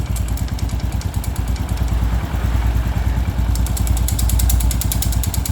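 A Honda Pop 110i motorcycle engine runs steadily up close, its low rhythmic thrum overlaid with a fast metallic clattering from a coin rattling loose inside, the rattle growing busier toward the end.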